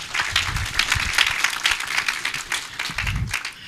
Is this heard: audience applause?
yes